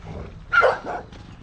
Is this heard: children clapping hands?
no